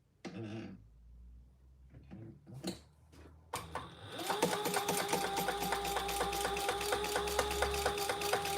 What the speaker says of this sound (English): we're just going to turn it right side out and do the final rows of final row of top stitching.